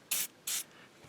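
Two short, close aerosol bursts of silicone spray hiss onto a rubber rear subframe bushing from a W126 Mercedes-Benz S-Class, each lasting a fraction of a second with a brief pause between.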